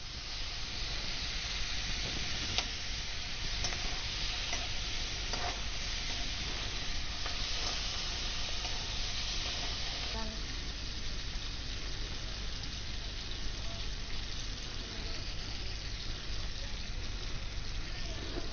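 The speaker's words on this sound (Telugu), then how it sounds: "మంచిగా మెంతి కూరను మొత్తం నూనెలనే వేయింపుకోవాలి" Fenugreek leaves frying in oil for a tomato chutney give off a steady, even sizzle and hiss that lasts the whole time, with a few faint stirring scrapes and no talking.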